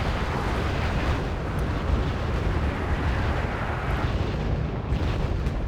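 Artillery and mortar fire with explosions in the real-time strategy game Wargame: AirLand Battle, a heavy continuous rumble of overlapping booms and blasts that never lets up, loud and alone without talk.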